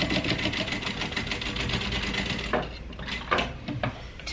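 A sewing machine runs steadily while stitching a bag seam at a 5/8 inch allowance, giving a fast, continuous mechanical whir, then slows into a few separate clunking stitches near the end.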